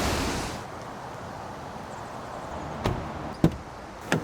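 A waterfall in Oregon's Columbia River Gorge gives off a steady, even rushing roar that fills the background. Three sharp thumps or knocks stand out near the end.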